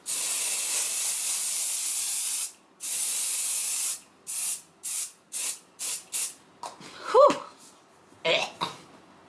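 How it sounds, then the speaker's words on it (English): A long hiss of Kryolan makeup fixing spray followed by a series of short, rhythmic spritzes, with a faint voice murmuring between the final bursts. "I'm going in with the Kryolan fixing spray."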